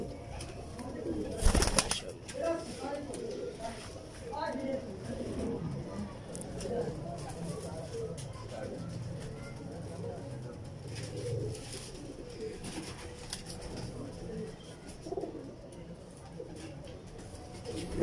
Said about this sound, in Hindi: दोस्तों देखिए कबूतरों की खड़क फड़क कैसी है माशाल्लाह।